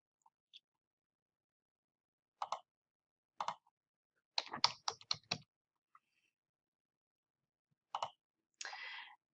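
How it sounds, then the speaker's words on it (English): Someone types a command on a computer keyboard: sparse single key clicks, then a quick burst of several keystrokes, then a final firmer press like hitting enter, close and clear in a quiet room. "I'm going to type in purge in my command line"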